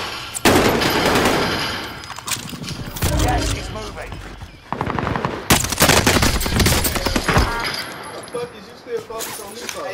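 Gunfire in the video game Warzone Rebirth, with dense, rapid bursts of automatic fire and loud cracking shots coming in waves, close and harsh, with players talking over the shooting.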